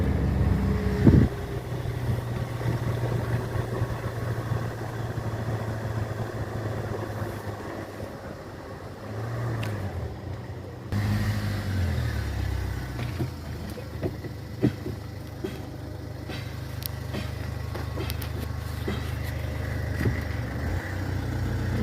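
Heavy trucks and other large vehicles idle in a jammed line on a muddy, rutted national highway near Hilkunji on the Ranebennur–Byndoor route, a steady low engine rumble close by with occasional knocks and shifts throughout.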